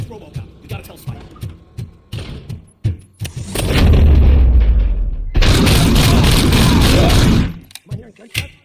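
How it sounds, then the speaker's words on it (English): Gunfire in the RoboCop Rogue City video game, sharp booms and sustained bursts of shooting that fill the middle of the passage, framed by short thumping impacts before and after. "Am I hearing gunshots? Pipe down!"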